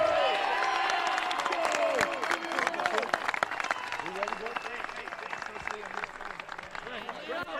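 A large crowd of summer baseball fans at a championship game claps and cheers steadily throughout, a dense continuous roar of applause with no break.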